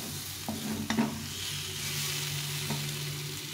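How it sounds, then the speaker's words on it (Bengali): Spice masala frying in oil for aloo dum, a soft continuous sizzle close by, broken by a few light taps and scrapes of a spoon stirring the pan. "কষানো হয়ে গেছে, মশলা থেকে তেল ছেড়ে দিয়েছে।"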